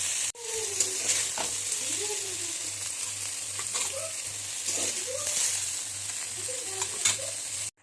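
Brinjal slices sizzle steadily in hot oil in a wok, a constant close frying hiss with occasional stirring scrapes, and faint talk runs underneath.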